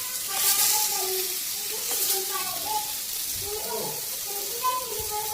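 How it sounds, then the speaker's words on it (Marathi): Marinated fish fries in a little oil on a hot griddle pan, giving a steady, fairly loud sizzle that runs continuously with some faint clinks and background noise. "आता हे मासे परतून घ्यायचे, साधारण 2 मिनिटांमध्ये एका साईडला शिजून घ्यायचे"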